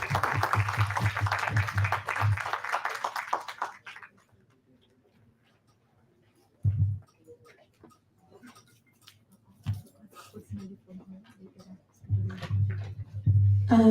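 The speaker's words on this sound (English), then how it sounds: "Second round of applause." Audience applause after a keynote at a medical technology conference: a burst of clapping for the first few seconds that fades out, followed by near silence, then brief low thumps and some faint ticking sounds.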